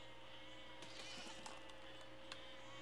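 Sheep bleat faintly in the game Besiege over a steady, noisy game soundtrack hum, with scattered small clicks and thuds in the background.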